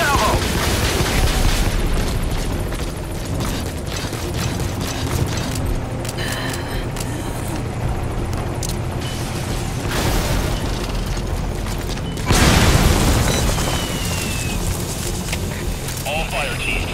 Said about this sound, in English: Rocket salvo.